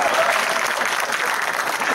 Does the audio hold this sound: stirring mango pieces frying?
no